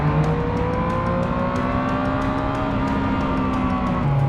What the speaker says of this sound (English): Let's see if we can get a nice little audio clip of that exhaust